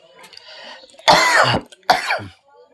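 Two harsh, loud coughs close up, one long and one shorter after a brief pause, with faint background sounds of a meal being eaten.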